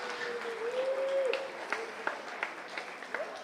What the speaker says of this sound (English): please give the folks that put this together a nice round of applause